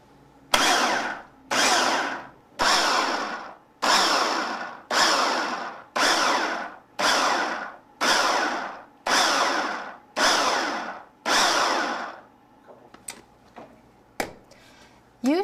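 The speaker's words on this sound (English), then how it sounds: "Secure your geared lid and your power pod, and we'll pulse until we've achieved our desired size." A Nutri Ninja blender with geared lid and power pod pulsing salsa ingredients: about ten short, loud whirring bursts of roughly one second each, evenly spaced, then a few faint clicks and knocks.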